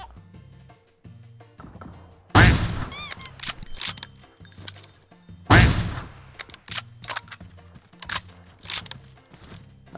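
Gunfire in a PUBG battle royale match: two loud, sharp bursts stand out, followed by scattered softer shots and mechanical clicks of weapon handling, with no talk.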